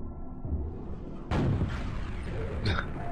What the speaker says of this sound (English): Long range rockets.